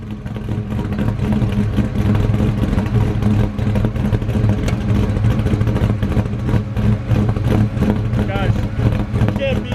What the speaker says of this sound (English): nothing can beat this car, how it sounds when it sits there and chops away